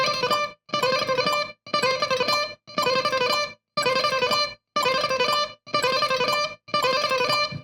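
A bright, fast-picked electric guitar lick repeats in short speed bursts separated by brief silences, each run starting and stopping sharply in steady rhythm on a metronome click.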